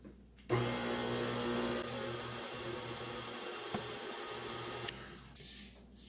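An electric mixer whirs steadily for about four seconds while beating cake batter for cake pops, with flour and milk being blended in, then cuts off abruptly, leaving a quiet room.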